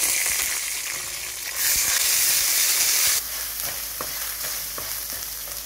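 Ginger garlic paste fries in a hot pan with peanuts for a dal palak, giving a steady, close sizzle and hiss with occasional stirring clicks.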